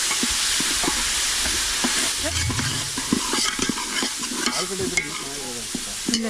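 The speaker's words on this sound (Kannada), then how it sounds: "ಚೆನ್ನಾಗಿ ಫ್ರೈ ಆಗ್ಲಿ." Ginger garlic paste frying with turmeric powder in a pan, a steady loud sizzle with repeated scraping stir strokes, the spatula knocking against the metal close by.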